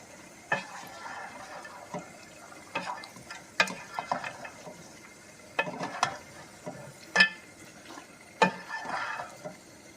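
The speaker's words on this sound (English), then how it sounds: "So you want to try and mix it all in as much as possible." Nkwobi being stirred and mixed in a pot, heard as scattered scraping and clinking strokes of a utensil at an irregular pace against faint background noise, with no talk.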